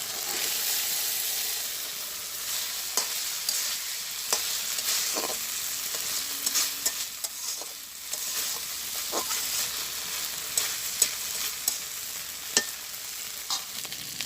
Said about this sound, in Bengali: আমি এখন এর ভিতরে আলু দিয়া ভালো করে কষাই নেব